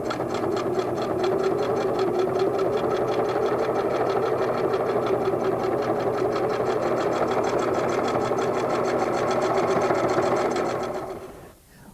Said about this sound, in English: Continue sewing down the other side.